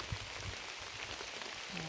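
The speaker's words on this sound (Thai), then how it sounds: "ตอนนี้ก็ฝนมาอีกแล้ว" Rain falls outdoors in a garden plot, a steady dense hiss of drops landing on surfaces, fairly close and even throughout with a low rumble underneath.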